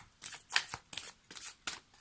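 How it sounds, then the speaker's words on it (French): Oracle cards being shuffled and drawn from a deck, heard as several close, quiet, crisp riffling flicks in a loose rhythm. "on va terminer avec une carte des murmures de Ganesh."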